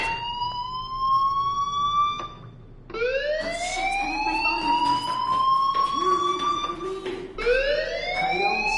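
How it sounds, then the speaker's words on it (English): Fire alarm in the Life is Strange video game, sounding in long rising-and-falling siren wails that repeat several times and stay loud throughout. "do you hear that fire alarm? That means you should be outside."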